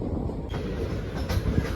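The Simhadri Express, travelling from Guntur Junction to Visakhapatnam Junction, passes Mangalagiri and is heard from on board as a brief, steady rolling rumble with faint wheel clatter.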